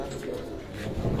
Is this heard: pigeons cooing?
yes